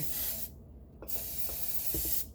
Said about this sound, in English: Okay, spray some hairspray in